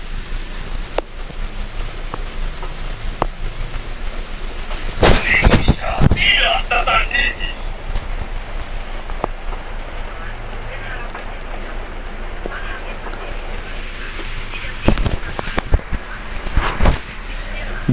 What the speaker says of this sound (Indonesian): Di sini lagi hujan ya